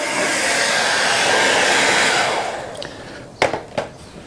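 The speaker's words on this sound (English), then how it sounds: "My hairdryer comes in handy." A hair dryer blows hot air onto a Vespa GTS scooter tyre, a steady loud roar for about two seconds that fades out, followed by a few sharp knocks and clatters close by.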